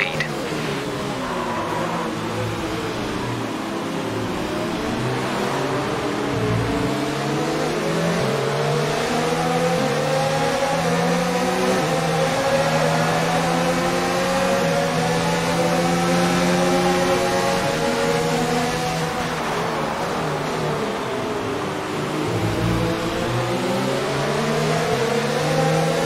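F1 2019 race cars accelerate at the Brazilian Grand Prix in the racing game, a continuous engine whine rising and falling in pitch through gear changes, steady and loud throughout.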